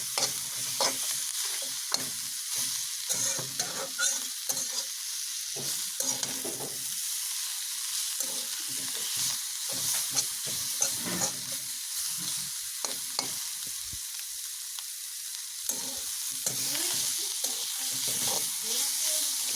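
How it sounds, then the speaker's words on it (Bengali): Hilsa fish with mustard greens cooks in a pan, stirred over and over. A spoon scrapes in repeated strokes against the pan, close and clear, above a constant hissing sizzle. "এখন কিছুক্ষণ নেড়ে চেড়ে নামিয়ে নিলেই রেডি মাছ দিয়ে সর্ষে শাক।"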